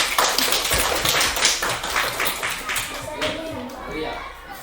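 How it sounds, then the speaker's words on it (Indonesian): Children in a classroom clapping their hands together, a dense, close burst of many rapid overlapping claps that gradually thins out over a few seconds, with voices speaking underneath. "tepuk tangan"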